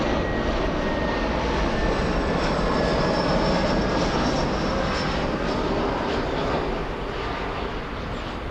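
An EasyJet airliner landing at Frankfurt airport, a loud, steady engine roar from a distance that holds across the whole stretch and eases slightly near the end.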